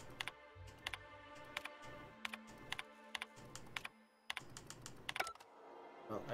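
Random keys mashed on a computer keyboard, a quick irregular run of sharp clicks and taps with short pauses, close and clear against a faint background hum.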